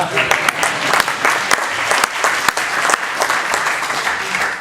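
Applause at a legislative district town hall meeting, many hands clapping steadily for several seconds with sharp individual claps standing out, close and fairly loud, with no talk over it.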